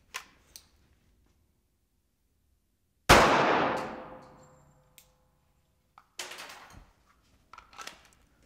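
A single loud gunshot from a .45 handgun firing a 230-grain ball round into soft body armor at an outdoor range, with a sharp crack and long decaying ring, then faint clinks and rustling afterward.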